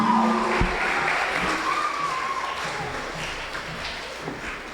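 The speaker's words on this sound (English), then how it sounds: "Let's give her another round of applause" Applause from an audience after a live competition performance, a steady broad wash of clapping that slowly fades over several seconds.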